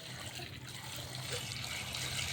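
A steady stream of water pours and splashes onto salted mangoes in a container for pickling, continuous and close, with no voices.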